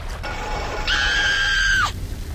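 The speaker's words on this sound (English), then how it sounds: "I heard a scream." A scream in the video game BioShock, a single sustained high-pitched cry rising then sliding down at the end, fairly loud over a low ambient hum.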